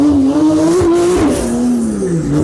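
A Porsche 911 Turbo rated around 750 horsepower revs hard and accelerates, its engine note rising and dipping in a continuous loud, close roar with no talking over it.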